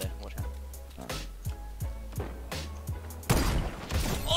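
Fortnite Battle Royale gunfire, a series of punchy shots spaced roughly every half second with booming low tails, ending in a louder noisy blast.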